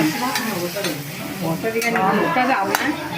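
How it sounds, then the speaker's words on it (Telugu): Cumin and tomatoes sizzle while frying in a pan, a close hiss broken by spoon scrapes and clinks against the metal, with faint voices murmuring underneath. "జీలకర్ర కొంచెం వేగిన తర్వాత జీలకర్రలోనే కూడా టమాటా వేసేస్తుందండి"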